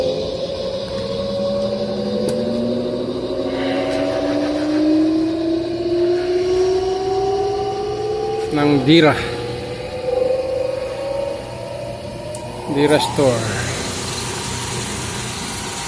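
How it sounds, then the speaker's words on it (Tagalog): A machine engine for cutting sample paper perfume strips hums steadily with a rising whine as it runs, joined by a few brief clunks, while a person talks over it. "Binuksan na, kawilaw na yung makina."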